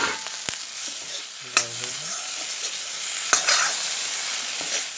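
Soya chunks being stirred and fried in a pan while cooking a chilli soya chunk dish, with a steady soft sizzle, a few utensil clinks and scrapes, and no talking.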